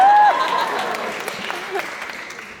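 A live talk audience at a Los Angeles event breaks into applause, a dense wash of clapping that starts loud and slowly thins out over a couple of seconds.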